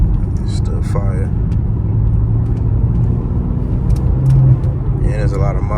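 A BMW X3M's engine hums as a low steady rumble from inside the cabin while driving, with someone talking over it.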